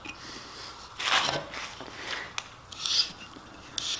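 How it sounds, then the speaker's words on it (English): Close, irregular rasping and scraping as a hand drill bores a screw-shank-sized hole into wood, with uneven strokes and brief pauses between them. "you need to drill a hole in the size of the shank of the screws in by hand"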